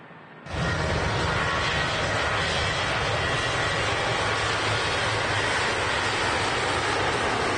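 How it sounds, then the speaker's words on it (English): A Ryanair airliner arriving from Prague at Manchester Airport cuts in abruptly as a loud, sustained jet roar after a brief quieter moment, then holds steady and even to the end with no talk. "Ryanair next to arrive in from Prague"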